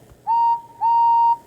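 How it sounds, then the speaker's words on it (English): Two sustained steam locomotive whistle blasts from a green tank engine, each about a quarter to half second long with a short gap, loud and steady with bright overtones, heard alone. "Whistled Henry."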